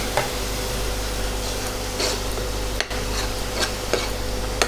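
Onion and ginger-garlic paste fry in a pan for a Shillong tomato fish dish, a steady sizzle running throughout, broken by scraping spoon strokes and soft taps as it is stirred.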